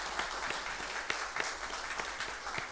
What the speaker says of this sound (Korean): 우리 모든 회원들 축복하는 마음으로 다시 한 번 더 박수하시겠습니다.